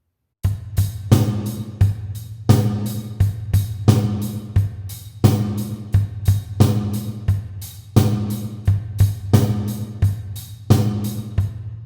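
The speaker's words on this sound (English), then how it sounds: "You can hear that push-pull between bass, snare, and hat." A rock drum beat plays steadily, with punchy bass drum and sharp snare hits over a ticking hi-hat, close and loud, no voices.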